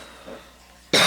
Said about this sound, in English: if I can quit coughing